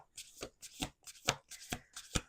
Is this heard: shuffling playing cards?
yes